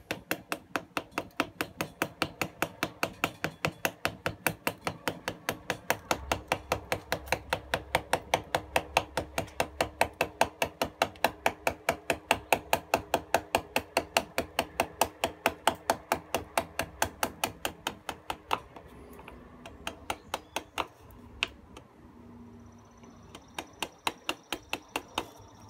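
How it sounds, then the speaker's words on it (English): Light, rapid mallet taps drive a chisel through wood while a feast bowl is carved. The sharp knocks are close and evenly spaced, then turn sparser and more irregular near the end. "The mallet's doing the work by taking the wood out."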